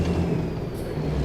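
A newer Kenworth W900 conventional truck gives a steady, loud, close low engine rumble with a slight hiss on top, with no talking.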